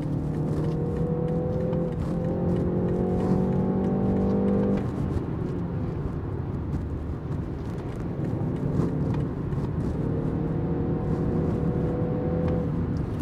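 A BMW 3 Series engine revs under way on a test drive, rising and settling in two sustained pulls, a close sporty growl from inside the car with no talking.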